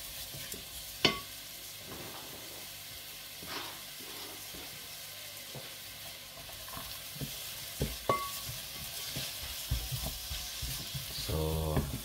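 White onion fries with garlic in a pan, giving a soft steady sizzle with occasional stirring scrapes and clicks of a utensil. The sizzle stays fairly quiet and grows slightly busier toward the end.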